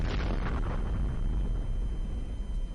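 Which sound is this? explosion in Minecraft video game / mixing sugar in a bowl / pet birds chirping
explosion in Minecraft video game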